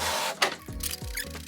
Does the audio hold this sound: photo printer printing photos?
yes